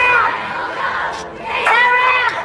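Crowd of demonstrators in a film scene, a loud mass of shouting and chanting voices that swells and dips, with rising cries near the end.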